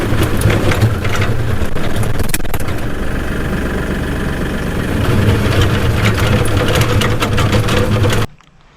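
A tractor loader runs with its engine at a steady heavy, low rumble, close and loud throughout, while its bucket is pushed forward at an angle, scraping. The engine cuts off abruptly near the end.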